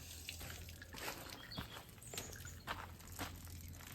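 Homemade wine poured straight from a pot into a glass demijohn, a quiet continuous splashing and trickling outdoors, faint and steady, with no voices.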